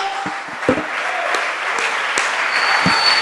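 A church congregation gives a strong round of applause, dense steady clapping filling the space, with a few louder individual claps popping out of the crowd.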